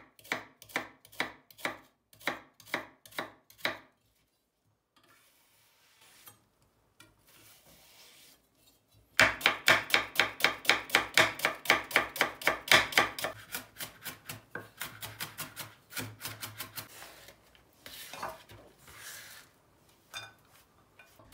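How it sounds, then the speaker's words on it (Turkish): Rapid, rhythmic knife chops through an onion on a cutting board, a short run of strikes, a pause, then a long, loud fast series of chopping that gradually slows. "Soğanı sıçan dişi, hatta daha ufak doğrayalım."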